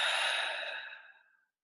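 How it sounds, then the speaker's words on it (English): A single long, deep exhale during guided meditation, close and soft, fading out gradually over about a second and a half before silence. "Just start taking some deep breaths"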